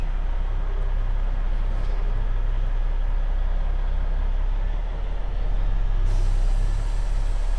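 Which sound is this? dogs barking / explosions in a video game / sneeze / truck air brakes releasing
truck air brakes releasing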